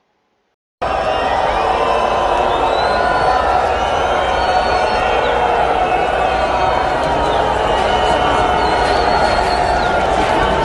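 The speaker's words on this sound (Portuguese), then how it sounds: "ele é vaiado, mas é uma vaia retumbante, tomando todo o sambódromo aqui do Anhembi" A huge crowd fills the Anhembi sambódromo in São Paulo with a loud, sustained roar of booing that runs continuously and close, with no break.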